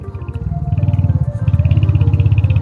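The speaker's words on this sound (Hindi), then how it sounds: "क्या थंप देती है बाइक" Royal Enfield Hunter 350 single-cylinder motorcycle engine pulling from low rpm on a hill road, a loud, close, steady rhythmic thump with even pulses that rise slightly in pace, heard alone without talk.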